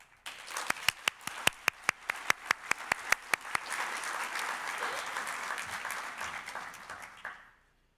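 An audience applauds to welcome a lecturer at an AIAA public service lecture, a few loud individual claps up close over a steady wash of crowd clapping that swells, holds and fades out.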